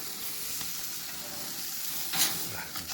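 A Stufz stuffed burger patty sizzles on a home grill with a soft, continuous frying hiss and a brief brighter crackle near the end, close and fairly quiet, with no voices.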